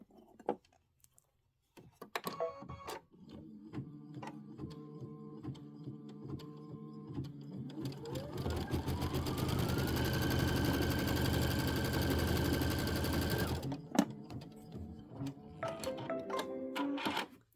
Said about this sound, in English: It's going to stitch across from left to right.